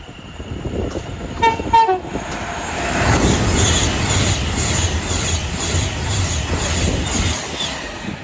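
A Class 390 electric train bound from Glasgow Central to London Euston passes at Watford Junction on the West Coast Main Line, a brief horn-like tone early on, then a loud sustained rush of wheels and rail noise rising and holding close by.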